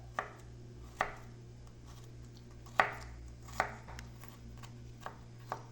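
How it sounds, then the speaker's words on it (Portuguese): A knife chops garlic on a cutting board for a creamy pasta dish, with about eight sharp, separate taps spaced unevenly over a low steady kitchen hum. "Vou fazer a mesma coisa, vou picar."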